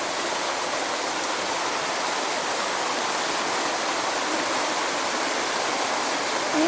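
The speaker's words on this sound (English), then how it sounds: "It's actually quite the cool little waterfall. Comes down into this pool." A small waterfall on Vancouver Island, British Columbia, pours steadily into a pool, giving a constant broadband rushing hiss with no breaks and no voices.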